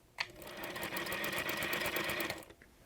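A Featherweight sewing machine fitted with a walking foot runs steadily through fabric for over two seconds, a close, continuous rapid mechanical chatter that starts and stops cleanly.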